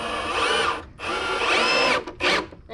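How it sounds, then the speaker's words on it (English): A power drill driving 2-inch wood screws into a warped wooden cleat, heard close up as two long whirring bursts and then a short final spin. "I am attaching this really warped cleat with wood glue and 2-inch wood screws"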